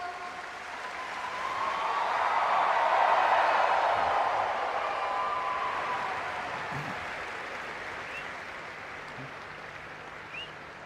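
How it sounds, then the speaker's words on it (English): Audience applause at a Save Soil MoU signing event in Goa greets the keynote speaker, a sustained wash of clapping that swells to a peak after a few seconds, then slowly tapers while continuing. "Keep the claps coming"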